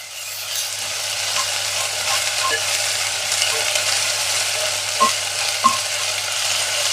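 Ginger garlic paste fries in a pan with a steady, close sizzle. Faint scrapes and clicks of stirring sit under it, and no one speaks.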